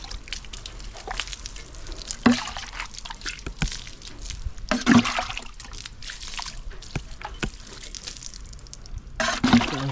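Water splashes and trickles over a bicycle during a rinse after washing, outdoors in the Bahamas. Intermittent dribbling and pouring comes in uneven bursts, moderately close, with a few louder sloshes.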